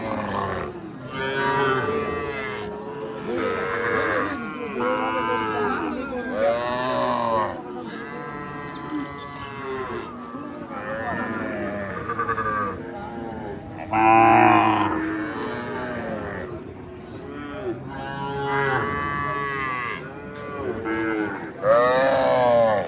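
Calves of local and crossbred breeds moo repeatedly at a cattle market, loud and close, with calls rising over steady crowd chatter and voices throughout.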